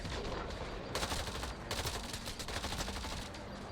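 Valkyrie rifle in the video game Mass Effect Andromeda firing at an enemy, dense rapid bursts of gunfire rattling continuously over battle ambience with no talking.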